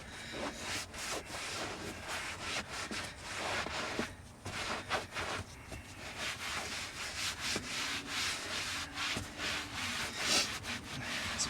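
Someone scrubs a leather car armrest on a Toyota or Lexus, making repeated close, rasping rubbing strokes in an uneven back-and-forth rhythm, with no talking.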